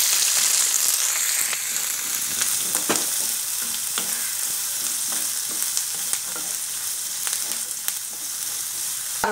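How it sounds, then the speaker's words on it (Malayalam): Onion, green chilli and garlic sautéing in a pan for a quick potato masala curry, a bright continuous sizzle with frequent spoon scrapes and taps, close and steady throughout. "ഇനി നമുക്ക് സവാള, അതേപോലെ പച്ചമുളക്, വെളുത്തുള്ളി, ഇത് 3ഉം ഇതിലേക്ക് നമുക്ക് ആഡ് ചെയ്ത് വഴറ്റിയെടുക്കാം"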